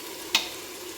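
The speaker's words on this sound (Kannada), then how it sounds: "ಟೊಮೊಟೊ ಹಾಕ್ತಾಯಿದ್ದೀನಿ" Ground tomato paste hits a hot, sizzling pan of chicken biryani masala: a steady close hiss of frying broken by one short, sharp splattering burst early on, then the sizzle carries on evenly with no voices.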